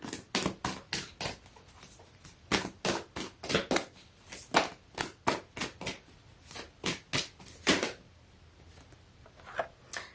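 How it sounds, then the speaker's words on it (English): Tarot cards being shuffled and pulled by hand, a close run of quick papery riffles and slaps in an uneven rhythm, with brief pauses between bursts and no talking. "Group number 3, let's pull a card."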